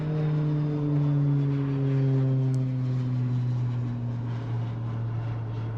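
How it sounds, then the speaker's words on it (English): A propeller airplane drones steadily overhead, a loud continuous engine hum with slowly falling pitch as it passes, heard outdoors beside a workshop under exterior remodeling with no talk. "Let's wait for this plane."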